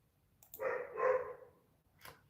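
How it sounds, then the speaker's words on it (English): Dogs barking indoors nearby in a drawn-out, muffled bark or howl lasting about a second, followed by a shorter yip, fairly close with no talk over it. "These dogs, man. I have a problem with these dogs."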